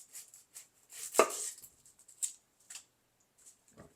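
A kitchen knife slices the top off a sweet onion on a cutting board, giving one crisp, close chop followed by a few light taps and scrapes, with no one speaking.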